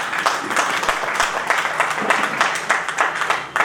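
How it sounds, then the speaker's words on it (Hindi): Audience at a Hindi book launch event breaks into strong applause, dense and steady clapping from many hands with sharper individual claps standing out, loud and close throughout. "जोरदार तालियां बनती है।"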